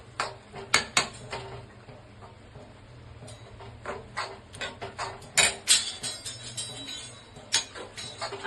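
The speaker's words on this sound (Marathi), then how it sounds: "मागे आवाज येतो भांड्यांचा" Pots and utensils clattering in a home kitchen while instant noodles are being cooked, with a steady run of sharp metallic clinks and knocks at close range over a low background hum.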